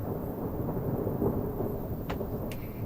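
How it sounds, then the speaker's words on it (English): Thunder rolls in a long, low rumble from a storm outside a camper van, steady and moderately loud with faint rain beneath it and no talk. "That's a lot of thunder. that's thunder."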